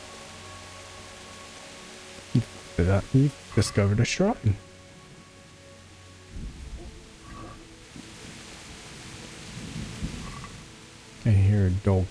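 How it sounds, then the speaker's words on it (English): Steady rain hisses through a medieval world in the video game Kingdom Come: Deliverance, with a low roll of thunder rumbling midway, while a voice speaks in short bursts over it. "And the lightning and the rain."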